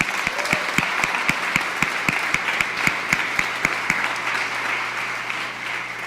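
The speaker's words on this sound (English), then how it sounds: "Can we give a round of applause for that?" A crowd at a fundraising event in Rochester, New York claps together, with some loud, evenly spaced claps near the microphone standing out over the general applause before it fades.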